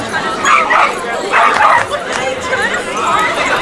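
Puppies in a Puppy Bowl game bark and yip in short, excited bursts, one in a harness acting aggressive, with people chattering over the yaps.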